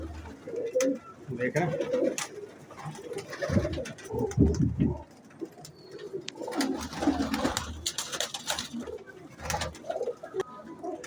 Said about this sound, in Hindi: ये कबूतर मादी देखें, मादी है, टैडी मादी